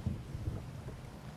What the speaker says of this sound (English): Why does it have to thunder and lightning?